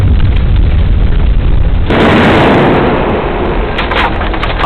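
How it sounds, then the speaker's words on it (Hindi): A loud explosion in a dramatic film scene bursts in about two seconds in, a sudden close roar layered with crackling debris over an already rumbling background. "अचानक एक जबरदस्त धमाका हुआ।"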